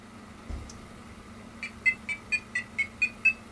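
An Arduino with a Bluetooth interface plays a short rising scale of about eight evenly spaced electronic beeps at startup, clear and close, following a faint click against quiet room hum.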